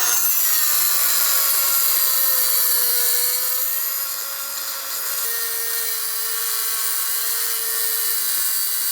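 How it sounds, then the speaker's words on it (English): A steady, high-pitched grinding whine from a cutting tool slicing off a seized front suspension nut on a Mitsubishi Evo 9, continuous and loud throughout with a slight pitch dip midway. "we got the nut cut off of there"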